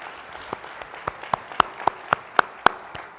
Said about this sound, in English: Let's give them a generous round of applause.